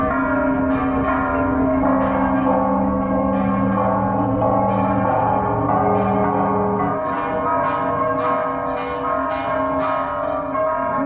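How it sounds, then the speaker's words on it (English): Church bells ring out in Puerto Vallarta, Mexico, their layered, sustained tones sounding loud and continuous throughout with overlapping strikes and no talking. "Who doesn't like the sound of church bells?"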